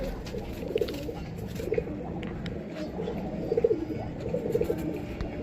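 Domestic pigeons cooing, with several soft, rolling coos repeating at intervals over a steady background hum, fairly close and moderately quiet.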